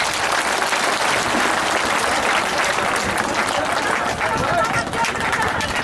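Loud, dense crowd applause rolls steadily at an outdoor political rally in Raniganj, many hands clapping continuously with a murmur of crowd noise beneath.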